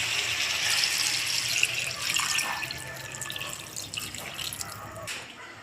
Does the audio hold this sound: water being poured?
yes